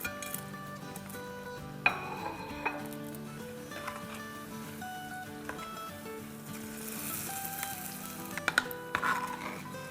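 Pakoras go into a pot of simmering kadhi, bringing faint sizzling along with light clinks of a spoon and utensils against the pot; quiet kitchen sounds with a few sharper taps and no talk.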